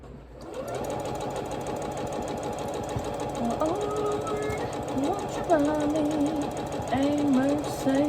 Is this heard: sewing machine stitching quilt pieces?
yes